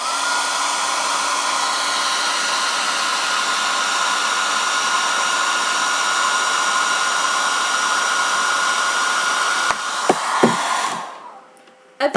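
A hair dryer blows continuously at a steady roar for several seconds, holding a ball up in its air column, then a few knocks sound as it shuts off and winds down.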